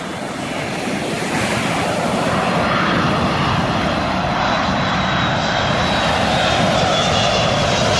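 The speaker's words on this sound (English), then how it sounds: "the uniqueness of the aircraft landing, but it could be the noise" A loud, steady jet engine roar from an aircraft landing overhead at Maho Beach, Sint Maarten, blended with crashing surf and wind, holding strong throughout with no voices.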